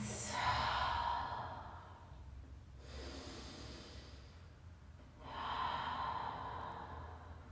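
Deep, slow breaths during a family yoga session, two long airy exhales separated by a quieter pause, close and soft with low background hum.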